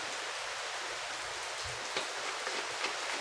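Rain pours down in South Florida, coming through open doors as a constant wash of patter and drips, with a couple of slightly louder drops near the end.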